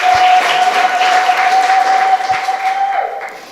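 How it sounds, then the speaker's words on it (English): An audience at a gender-responsive climate action event applauds in a steady, dense burst of clapping that holds for several seconds before thinning slightly toward the end, with a sustained tone running beneath it. "Applause is very, very welcome."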